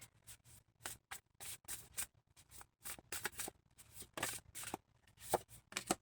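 Quiet, close rustling and brisk flicking of oracle cards being shuffled and drawn from a deck in short irregular bursts, with no talk.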